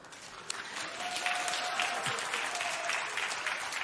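A church congregation applauds during a sermon, a dense, sustained clapping that swells and holds steady for several seconds at close range with no voices over it.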